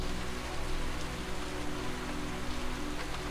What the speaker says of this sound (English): So the rain coming down,